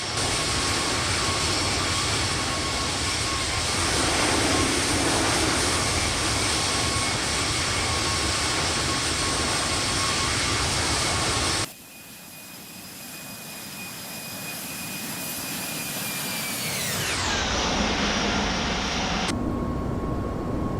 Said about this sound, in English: Those engine sounds are phenomenal.